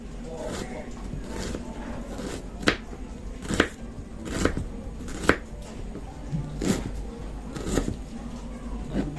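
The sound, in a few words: knife chopping garlic and onion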